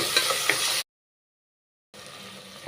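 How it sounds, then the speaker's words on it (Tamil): Tomatoes sautéing in a pan for Kanyakumari-style yellow rice make a soft sizzle with light scraping. It breaks off into about a second of silence, then resumes more quietly, with no voices. "தக்காளி வந்து நல்லா வதக்கிக்கிறணும்"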